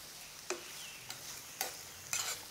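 Garlic mixture stirred in a pan for a shrimp and mussel coconut curry: a soft steady sizzle with four or five light scraping strokes of a spoon, close and alone.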